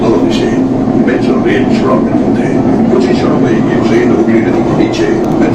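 A Kolkata Metro train rolls through the tunnel beneath the Hooghly River, a loud, steady roar with rhythmic rail clatter filling the whole stretch, heard from inside the carriage.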